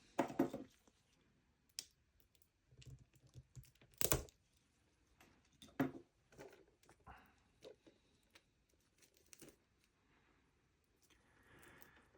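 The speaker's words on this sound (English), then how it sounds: "Okay, so let's unwrap that boy." A new Disney disc case is unwrapped up close in a quiet room, with sparse soft crinkles, plastic taps and scratchy tearing bursts separated by pauses, fairly faint.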